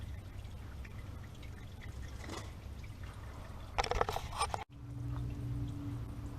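Used motor oil draining from the oil pan of a Dodge Grand Caravan, a steady hissing, pouring stream with a brief louder splattering burst before it cuts off abruptly.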